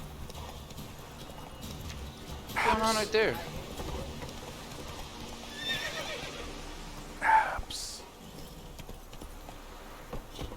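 A horse in The Witcher 3 whinnies twice in loud bursts, with steady clip-clopping hooves in between, while someone talks over the game sounds.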